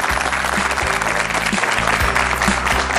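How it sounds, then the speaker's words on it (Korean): Studio audience applause greeting a politician guest on the Korean talk show Power Interview, a steady wash of clapping held over a repeating low musical beat throughout. "큰 박수로 맞이해 주십시오."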